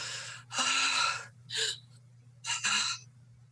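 Three sharp gasping breaths from a voice imitating gasping, the first long and drawn out, the others shorter, voiced close by and alone over a low steady hum.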